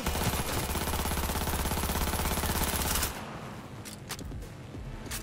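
Rapid automatic gunfire in Cyberpunk 2077, a dense continuous burst of shots for about three seconds, followed by scattered sharper shots against lower background noise.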